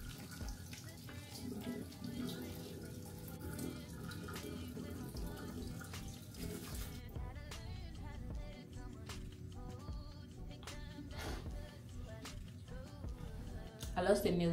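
Tap water runs steadily into a sink as a face is washed with Dove bar soap, a continuous splashing hiss with a few clunks and drips, while a person talks over it.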